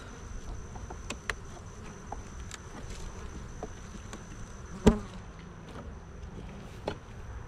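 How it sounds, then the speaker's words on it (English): Honey bees in a hive open for an October inspection make a low, steady buzz, with sharp clicks and knocks on top and one louder thump midway, and no voices. "I usually like to see more bees up here this time of the year"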